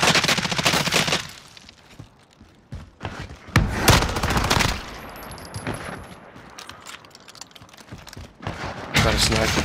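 Rapid bursts of video game gunfire crackle in loud clusters with short pauses between volleys, close and harsh, with players talking over the shooting.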